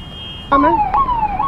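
An ambulance caught in road traffic sounds its siren. A loud electronic wail sweeps downward in pitch, then repeats in short, close cycles over low traffic rumble.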